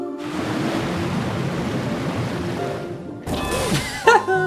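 Water sloshing and rushing in Super Mario Galaxy 2, a steady broadband wash with game music tones over it, cut off briefly before a brighter burst of splashy sound effects.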